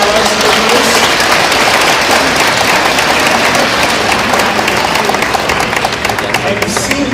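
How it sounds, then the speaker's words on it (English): Loud, close audience applause fills the whole stretch as dense, continuous clapping with a crowd rumble beneath. "folks, how about some applause for Bruce?"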